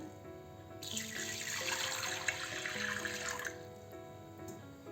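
Water is poured into a pressure cooker set up with a stand for steaming semolina laddoos: a soft, splashing stream starts about a second in, runs for a few seconds and then stops, fairly quiet and close.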